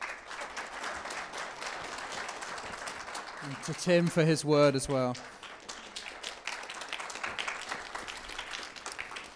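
Applause and clapping ring out from a church service audience, with someone speaking over it partway through as the clapping goes on around his voice.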